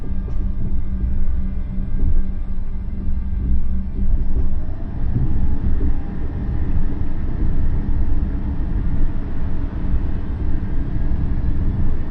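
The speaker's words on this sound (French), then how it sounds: "Nous pouvons nous mettre en marche, en respectant la marche à vue, sans dépasser 10 km/h sur la voie de sortie." A BB 22200 electric locomotive starting to move out of a yard, heard from inside the cab as a loud, steady low rumble and hum that holds constant throughout.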